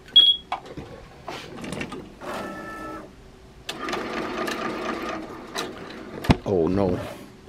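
A Tajima TMBP-2 embroidery machine stitches a design onto a sweatshirt, producing close, intermittent bursts of rapid mechanical whirring and ratcheting with short pauses and a few sharp clunks between runs.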